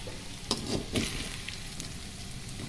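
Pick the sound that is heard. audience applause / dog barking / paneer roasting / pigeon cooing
paneer roasting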